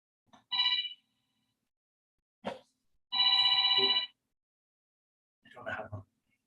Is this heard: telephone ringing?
yes